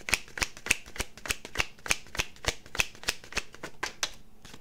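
Playing cards are shuffled and dealt in a steady run of crisp riffling snaps, about three per second, close and clear with no talk over them.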